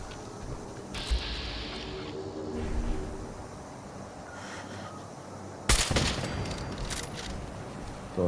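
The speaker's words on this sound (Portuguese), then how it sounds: "Torreta." Automated turret firing in the Fallout 4 video game, bursts of rapid gunfire at moderate distance with one sharp louder volley partway through over a low rumbling background.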